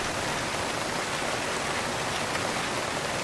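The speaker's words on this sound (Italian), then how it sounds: "minchia come piove" Heavy rain pours steadily in a zombie apocalypse simulation game, a dense, even hiss of downpour filling the whole stretch with no pauses and no voices.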